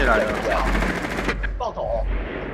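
Rapid automatic gunfire in the shooter game Rainbow Six, a dense, loud burst for over a second that cuts off abruptly, followed by fainter in-game sounds.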